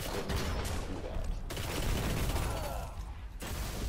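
Sustained automatic rifle fire in the Destiny video game's Iron Banner multiplayer mode, rapid loud bursts running nearly continuously with brief pauses near the start and end.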